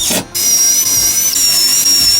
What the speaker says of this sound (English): I went ahead and pre-drilled a pilot to make my life easier